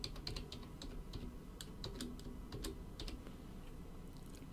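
Keys clatter in quick, irregular taps as a login username and password are typed in, faint and alone with no voices.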